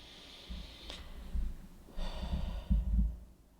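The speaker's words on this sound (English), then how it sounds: "I invite you to breathe again with me" Slow, deep breaths taken close to the microphone: a soft inhale, then two longer, heavier breaths with audible airflow and a low rush, with no talking.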